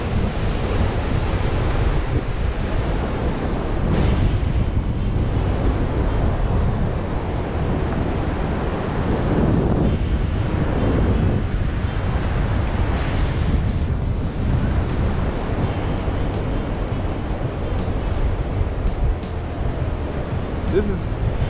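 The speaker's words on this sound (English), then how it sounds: "This is beautiful beach here in Ghana." Ocean waves and wind at Bojo Beach in Ghana, a continuous loud roar of surf with gusting wind buffeting the microphone, close and unbroken throughout.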